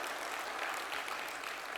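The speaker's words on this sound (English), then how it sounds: "And please give them a round of applause." Audience applause at a launch event, a dense, steady clapping from a large crowd sustained evenly throughout with no voices over it.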